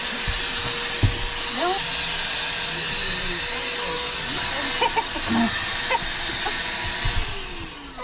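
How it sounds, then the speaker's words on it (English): A Shark handheld vacuum running inside a caravan, a steady loud whine and hiss that continues throughout, with a few faint knocks and squeaks over it. "I've also got my trusty Shark hand vac, which is terrific"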